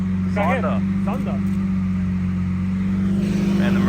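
A Pagani Zonda hypercar's engine drones loud and steady with a deep tonal hum as it drives by on a street, while a voice speaks excitedly over it.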